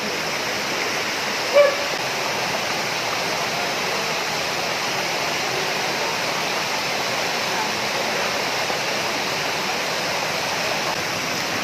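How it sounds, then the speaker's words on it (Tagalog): Steady broadband roar of water falling at Marlica Falls, continuous and even throughout with no talk, one brief bump near the start. "Tapos dito sa Marlica Falls."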